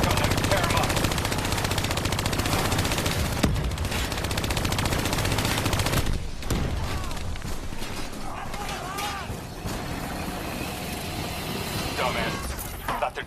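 In Call of Duty Black Ops 3, a turret machine gun fires in a loud continuous roar of rapid shots, then eases into scattered bursts and rattles, with voices talking over the fire.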